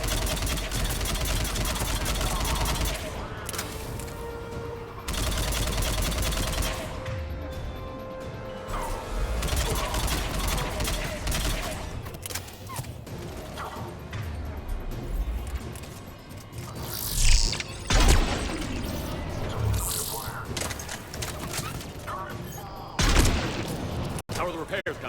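Heavy weapon fire and crashing impacts in Mass Effect 3, a big gun booming in loud repeated bursts with smashing debris, alongside spoken dialogue and game noise.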